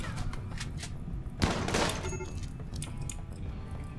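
A single sharp gunshot cracks out in the colony-management game RimWorld during a prison break, standing out as one loud burst over a steady bed of game ambience.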